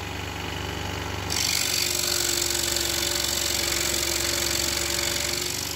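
A scroll saw (Dekupiersäge) runs at full speed, a steady, loud buzzing hum with rapid reciprocating texture that rises in intensity after about a second and continues unbroken, close up with no speech.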